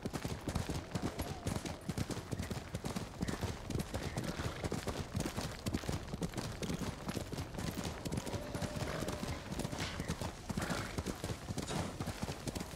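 A horse in Ghost of Tsushima gallops with a rapid, continuous clatter of hooves close up, steady for the whole stretch under a dense game background.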